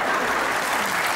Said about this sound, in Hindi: ये जिसने ताली बजाई है ना